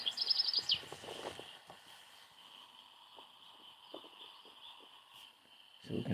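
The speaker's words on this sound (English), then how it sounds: "Birds. I recorded some birds" A played-back recording of birdsong: faint bird chirps and calls over a steady high-pitched hum, with a louder rustle at the start and a low thump at the end.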